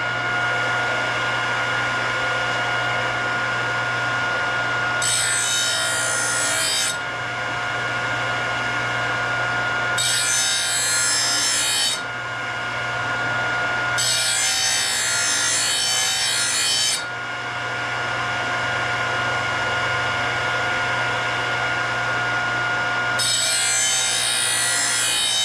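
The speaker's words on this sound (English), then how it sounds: "We're going to deburr these here and then balance them." Lawn mower blades are deburred with a file, giving loud, harsh rasping strokes in four separate bursts of a couple of seconds each over a steady machine hum in a shop.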